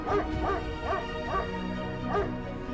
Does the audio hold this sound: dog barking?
yes